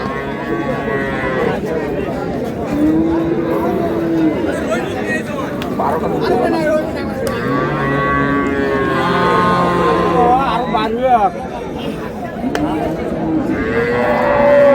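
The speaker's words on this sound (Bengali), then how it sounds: "গাভী বাছুর" Cows and calves moo repeatedly at a busy rural livestock market, drawn-out calls rising near and far over constant crowd chatter and bargaining voices.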